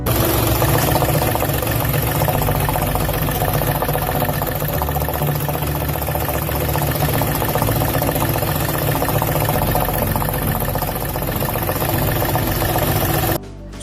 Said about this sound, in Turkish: Buna subap vurması denir ve bu sesi bizzat motoru dinleyerek duyabilirsiniz.